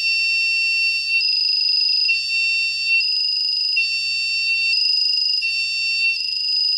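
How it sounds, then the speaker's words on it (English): An electronic buzzer on a coding kit sounds a steady, high-pitched electronic tone, loud and continuous throughout, with slight pulsing in intensity and no talk. "Because we remove the block that turns the buzzer off, it just stays on forever."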